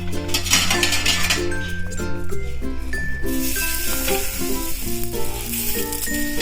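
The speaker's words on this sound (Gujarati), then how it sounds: "જુઓ આ આપણે સેલો ફ્રાય કર્યા છે. હવે આપણે બીજું આવી રીતે મૂકી દઈશું." A veg burger patty shallow fries in a pan with a steady sizzle, over which music plays prominently.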